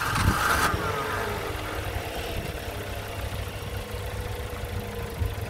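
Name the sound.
Nissan Micra car engine restarted and idling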